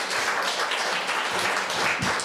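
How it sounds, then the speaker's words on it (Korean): An audience applauds steadily and fairly densely at a formal Korean ceremony announcing selection results for filial piety instructors, with no talk over the clapping. "다시 한번 큰 감사의 박수 보내주시기 바랍니다"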